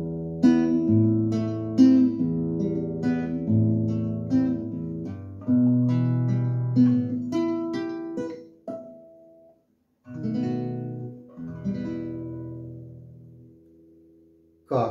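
The closing section of a prelude is played on guitar, a close, clean solo line of plucked notes and arpeggiated chords with ringing sustains and brief pauses, and no voices.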